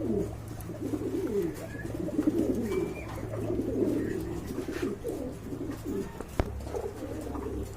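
Pigeons coo steadily and close by at a pigeon sale where big-sized pairs are on offer, soft repeated coos layered over one another with a low hum beneath, and a sharp knock near the end.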